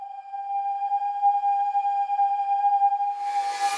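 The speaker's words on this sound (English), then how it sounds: "there's like some whistling thing out there" A long, steady, eerie whistle holds one pure tone with faint overtones, then gives way to a breathy hiss at the end.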